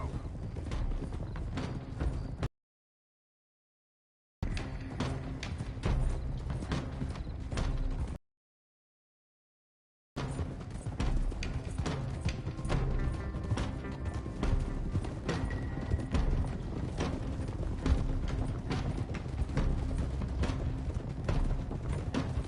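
Horses' hooves beat a steady, rhythmic clip-clop on a trail while riding in the video game Red Dead Redemption 2, with faint creaks of gear and a possible whinny, continuing throughout, broken by two short gaps of silence.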